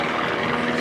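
An aerobatic airplane performing at the Westmoreland County International Airshow, giving a brief, loud, steady propeller drone that fills the moment without voices.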